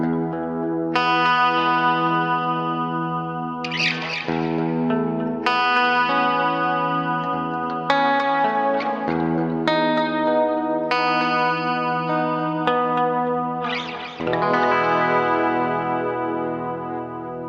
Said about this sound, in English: Let's get some reverb in there.